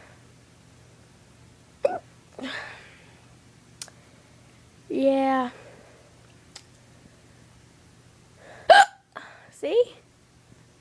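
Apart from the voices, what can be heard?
repeated hiccups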